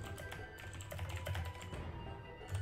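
Fingers tap out a quick, uneven run of clicks on a computer keyboard, close and fairly quiet, in short bursts with small pauses between them.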